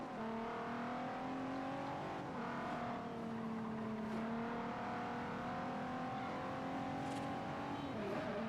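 Car engine revving hard under throttle in the Forza Horizon racing game, a loud continuous engine drone whose pitch rises and dips with throttle changes throughout.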